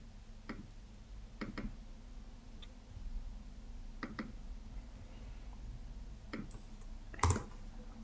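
Keystrokes on a computer keyboard while Java code is written, sounding as scattered, irregular clicks in small bursts over a quiet room hum, with one sharper louder clack near the end.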